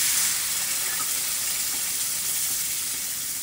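Two purées sizzle in a buttered frying pan with an even, dense hiss that holds steady close up and fades very slightly over a few seconds.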